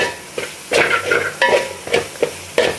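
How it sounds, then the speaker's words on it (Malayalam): Garam masala being stirred into a crab roast in a pan, close and fairly loud, with a rhythmic series of scraping stirs over a bed of low sizzling. "ഇതെല്ലാം കൂടെ നന്നായിട്ടൊന്ന് മിക്സ് ആവട്ടെ"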